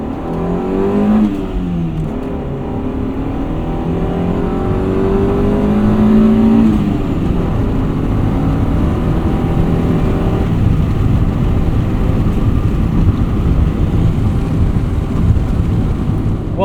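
Steady engine drone from a 1995 Honda Civic Si with a manual transmission, heard from inside while driving, with a rising rev near the start and a gear change before settling into a constant roar.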